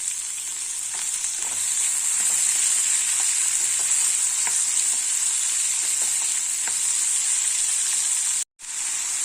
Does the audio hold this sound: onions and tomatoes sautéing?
yes